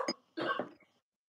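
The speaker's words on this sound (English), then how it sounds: "She's coughed all over it." A woman at home gives two short, close coughs, a brief one followed by a fuller one, and then it goes quiet.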